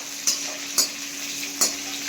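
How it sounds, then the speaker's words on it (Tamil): Brinjal sautéing in oil in a pan on a steady low sizzle, with three soft stir scrapes spaced through the short stretch; no voices. "போட்டு இந்த எண்ணெயிலேயே நல்லா ஒரு 5 நிமிஷம் இந்த 2 காயும் நல்லா வதங்கணும்"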